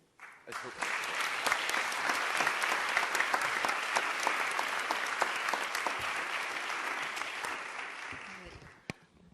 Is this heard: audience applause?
yes